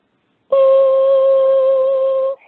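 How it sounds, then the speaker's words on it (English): A steady two-tone electronic ambulance radio alert beeps loudly for about two seconds, clean and sustained, then cuts off abruptly. "And the radio goes off when ambulance crews call in"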